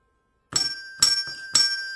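Three separate strikes on a blue hand bell tuned to G (Sol), each ringing out clear and bright with a steady sustained tone, evenly spaced about half a second apart.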